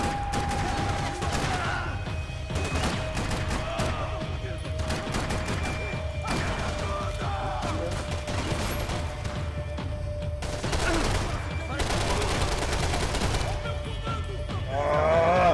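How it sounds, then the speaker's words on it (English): Gunfire in the video game Max Payne 3, dense rapid bursts of shots and automatic fire going on almost without pause, loud and close, with shouted voices breaking in over the shooting. "Covering fire! Covering fire!"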